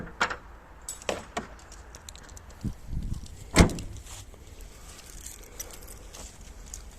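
A car door, on a car back from a windshield replacement, shuts with one solid thud midway, preceded by softer clicks, rustling and a faint jingle of keys, nearby in a quiet setting.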